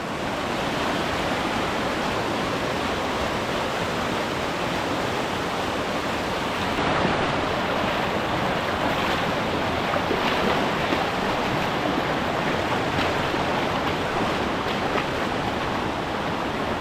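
A creek in the Upper Buffalo Wilderness flows and rushes steadily, a broad unbroken wash of water noise that stays close and loud throughout.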